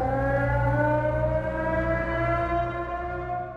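A civil defense siren wails in a sustained, steady tone with layered harmonics, slowly fading slightly as it holds, heard alone.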